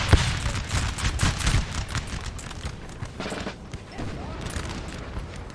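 Massed musket volleys and artillery fire from a Napoleonic Total War 3 multiplayer battle, with 9-pounder guns on a hill, crackling in dense overlapping bursts of gunfire throughout.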